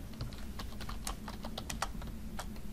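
Quick bursts of keystrokes on a computer keyboard while entering a title into a PowerPoint table, close and crisp with uneven rhythm, no talking.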